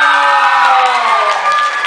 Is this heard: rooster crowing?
no